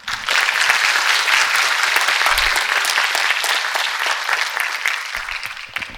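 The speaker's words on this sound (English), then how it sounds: "A huge round of applause for our panelists." A seated audience gives the panelists of a stage show a loud, sustained round of applause, dense clapping that starts abruptly and tapers off slightly toward the end.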